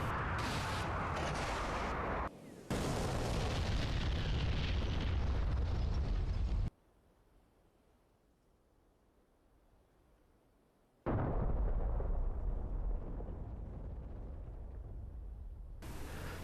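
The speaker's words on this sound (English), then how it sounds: "New explosion effects have been added for aerial explosions, along with improvements to the existing ground explosions and smoke." Loud, rumbling aerial and ground explosions from the DCS flight simulator game, several heavy blasts running back to back, then a sudden drop to near silence before another booming burst that trails off.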